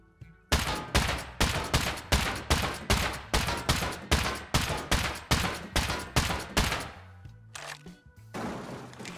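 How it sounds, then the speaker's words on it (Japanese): Automated base defense turret firing in a survival video game, about sixteen loud, evenly spaced heavy shots in a steady rhythm over several seconds, then stopping, with no talk over it. "自分の拠点のタレットが反応してます"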